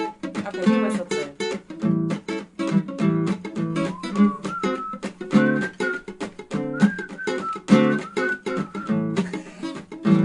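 A melodic whistled tune carries over rhythmic guitar strumming during a balcony concert, the whistle gliding and wavering through several phrases.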